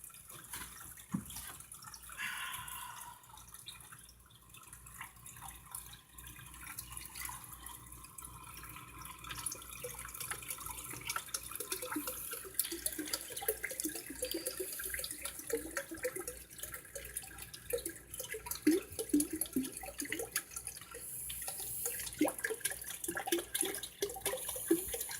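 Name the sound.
water filling a fish tank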